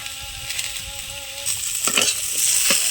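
Pointed gourd and potato hit a hot pan and break into a bright, loud sizzle that swells after a quieter start, with a couple of utensil knocks as they settle.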